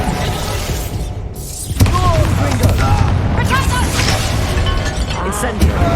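Incendio fire spell blasts in Hogwarts Legacy, a sharp whooshing burst followed by crackling, booming combat effects, heard amid busy battle noise with voices speaking over it.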